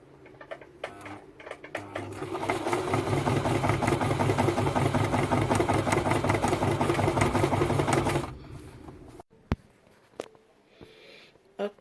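A sewing machine stitches the inside leg seam of a pair of shorts, running steadily and loudly for about six seconds before stopping, followed by a few faint handling clicks.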